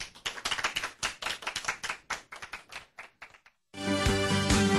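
A lecture audience breaks into applause at the end of a talk, first as a ragged run of separate claps that thins out, then as a dense, steady burst of clapping from many hands after a brief pause.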